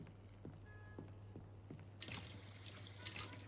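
Water running from a shower in an apartment in the Mafia 2 video game, a steady hiss that suddenly swells louder and brighter as the flow opens up, heard alone.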